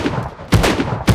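A very loud gun fires in a video game, with two sharp booming shots half a second apart over a noisy background.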